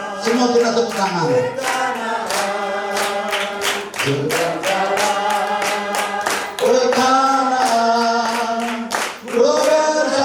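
Wedding guests at a church ceremony clap in a steady rhythm, loud and near, mixed with voices singing a worship song.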